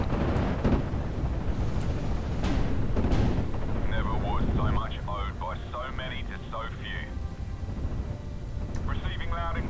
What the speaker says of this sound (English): Got artillery hitting that.